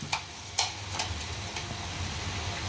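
Ginger garlic paste sizzling in a pan with fried onions for a vegetable thali, a steady broadband fry with several sharp scraping stir strokes near the start.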